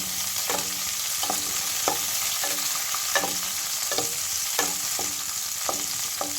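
Raisins frying in a pan of hot oil for a shahi pulao, a steady close sizzle broken by regular clinks and scrapes of a spoon stirring, with no voices.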